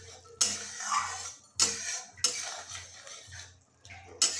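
Fried puti fish is mixed into a bubbling green tomato curry, a metal spoon clinking and scraping against the pot in several distinct bursts separated by quieter gaps, close up and without talk.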